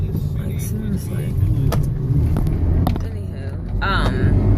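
A car drives by close at hand, its engine and tire rumble rising and swelling over a steady low background drone, while people talk over it.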